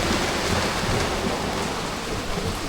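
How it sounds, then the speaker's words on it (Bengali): Rain falls steadily in a Sundarbans village near the India–Bangladesh border, a thick, unbroken wash of noise close at hand. No distinct thunderclap stands out and no one speaks. "প্রচণ্ড মেঘ ডাকছে এদিকে"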